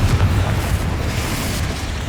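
Confringo spell explosion in Hogwarts Legacy, a loud, deep rumbling blast that stays heavy and sustained with a low roar.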